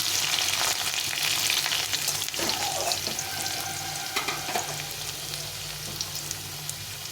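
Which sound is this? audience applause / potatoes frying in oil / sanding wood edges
potatoes frying in oil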